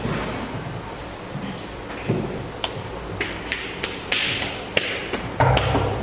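Several sharp knocks on a door in a school classroom scene from a student theater drama, irregularly spaced taps and thuds over a steady room hum, fairly close with no speech.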